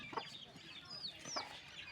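A few high, thin peeps of a chick, faint and brief, over a quiet outdoor background.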